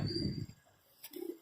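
A pigeon coos twice nearby, two soft low throaty bursts separated by a short pause.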